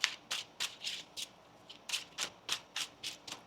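A deck of tarot cards is shuffled in a run of about a dozen rhythmic riffling bursts, close and crisp, with no voices.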